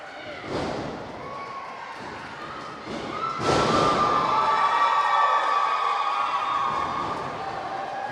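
A crowd at a live wrestling event cheers for wrestler Seth Stevens, with shouting and clapping rising over heavy ring thuds and slams, swelling in the second half and staying loud throughout.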